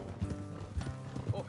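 Horse hooves clip-clopping in Red Dead Redemption as riders slow along a road, a few soft thuds spaced under a low engine-like hum and a speaking voice.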